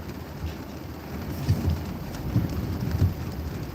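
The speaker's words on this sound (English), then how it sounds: "we're thankful for the rain" Steady rain on a car being driven through the Bronx makes a soft, constant hiss over a low road rumble, with a few faint thumps and no talk.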